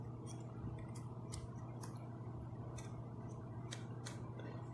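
An EPOS PC 8 headset microphone boom moved in steps gives faint, small plastic clicks, about eight to ten scattered irregularly over a low, steady background hum.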